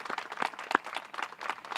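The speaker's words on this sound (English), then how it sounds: "Let's give you all a round of applause as well." Scattered applause from an audience at a police chief swearing-in ceremony, with distinct individual claps in a quick irregular rhythm, fairly faint and distant, with no voices over it.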